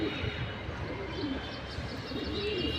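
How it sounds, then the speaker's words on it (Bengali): Soft, continuous cooing of white-eyed pigeons fills the air, low rolling coos layered over each other with faint chirps in the background. "এই কবুতরগুলো হলো হোয়াইট গোল জেনারেশনের কবুতর"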